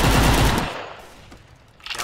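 AK5 rifle fired in the shooting game Maskgun: a loud, dense burst of automatic fire for about half a second, then fading into quieter game ambience with a faint sound rising at the end.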